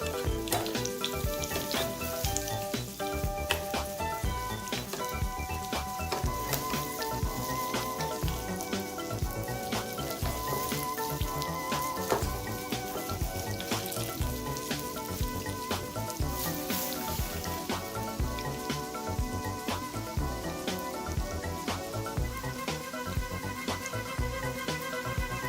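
Hand-breaded cheese sticks pan fry in hot oil, giving a dense, continuous crackling sizzle with sharp pops throughout, steady and close, with no talking.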